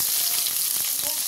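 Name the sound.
chopped hog plum frying in the pan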